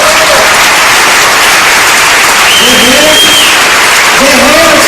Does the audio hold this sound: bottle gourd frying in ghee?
no